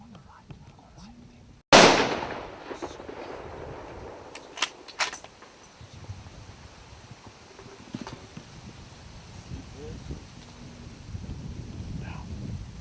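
A single sharp gunshot cracks out close by during a leopard hunt in Zimbabwe, then fades into quiet outdoor rustling, wind and soft whispering voices.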